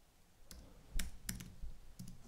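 Faint, sparse key clicks from typing text on a computer keyboard, about half a dozen irregular taps in a quiet room.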